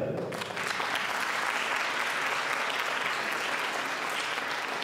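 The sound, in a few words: applause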